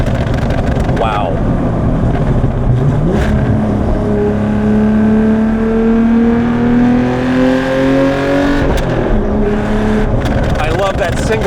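Porsche 911 GT3 Touring with a six-speed manual, engine loud and close as it revs up through long rising pulls, with a short pop between gear shifts; a voice speaks briefly over it.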